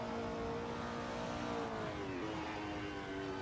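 Race car engine in a Formula Student sim racing video game, a steady high tonal whine whose pitch dips briefly as it brakes into a corner, then holds.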